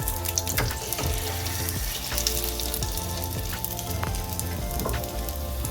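Bun dosa batter frying on a hot pan over low heat, giving a steady, close, dense sizzle that runs unbroken throughout with soft crackles.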